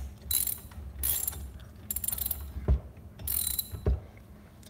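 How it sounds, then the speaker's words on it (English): Ratchet wrench working on a Predator 212 small engine during reassembly, giving several bursts of rapid close clicking with a couple of sharp metallic knocks between them, no talking. "let's flip our ratchet"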